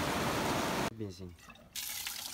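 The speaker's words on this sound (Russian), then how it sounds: "Заправка на Памире." Petrol gushes steadily from a nozzle during refuelling in the Pamirs, a loud broadband liquid rush that stops abruptly for a moment while a voice speaks, then resumes.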